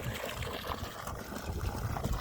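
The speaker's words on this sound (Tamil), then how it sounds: "தண்ணி எடுத்தாச்சு ஆல்ரெடி ஒரு ரெண்டு மணி நேரம் ஓட்டிட்டோம் கீழே அந்த பக்கம் இந்த பக்கம் ஓடிட்டுருக்கு" Water splashing and trickling from a newly drilled 500-foot borewell driven by a 1500W BLDC motor pump with a 50mm pipe, a steady, close, rushing wash with no talk over it.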